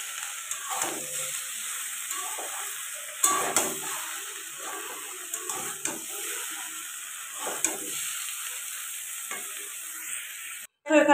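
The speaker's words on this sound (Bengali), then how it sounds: "এখানে মাছ ভাজা করতে বসিয়ে দিয়েছি, মাছ ভাজা হচ্ছে।" Fish rubbed with salt and turmeric fries in a pan, giving a continuous close sizzle and hiss with occasional stirring scrapes, steady and alone without talk.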